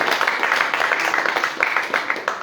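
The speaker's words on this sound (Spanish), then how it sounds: "Dele fuerte aplauso al Señor." Church congregation applauding the Lord, a dense, sustained patter of many hands clapping at moderate distance with no speech over it.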